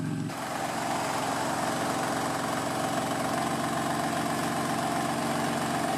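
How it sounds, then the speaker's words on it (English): A 2019 BMW M4 Competition with a secondary cat delete idles with its exhaust valves open, a steady low, even burble close by and alone. "Valves are still open, but at low idle, it's not really as loud."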